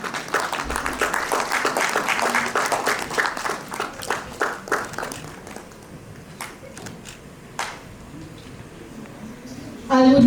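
Audience at a platinum jubilee celebration in Kolkata applauding a guest, a burst of clapping that fades into scattered claps, then a few isolated taps before a louder noise at the end.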